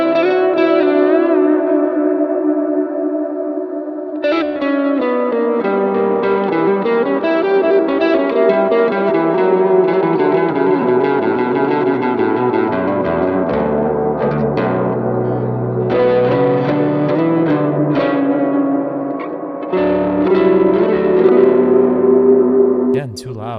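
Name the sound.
electric guitar, Neural DSP Archetype Mateus Asato clean amp with reverb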